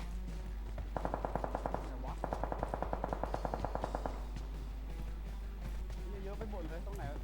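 Automatic gunfire in the mobile shooter PUBG Mobile comes as two rapid bursts of evenly spaced shots, fairly distant and moderately loud, under ongoing voices talking over a low steady hum.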